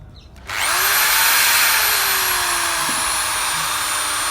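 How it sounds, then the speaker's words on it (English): A power drill starts up after a short quiet moment and runs steadily at high speed while drilling a new hole, a loud continuous whine with a slight pitch dip partway through, preparing for tapping threads. "Now I will drill a new hole here"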